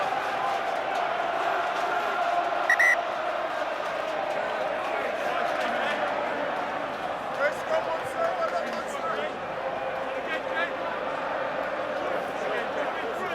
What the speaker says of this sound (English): The Munster fans making themselves heard.